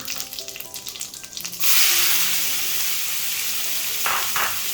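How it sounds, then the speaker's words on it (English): Chopped onion hits hot oil already crackling with cumin seeds and asafoetida powder. A loud burst of sizzling follows, steady frying continues, and occasional stirring strokes are heard. No one speaks. "Fry the onion on high flame until it becomes translucent and keep stirring it."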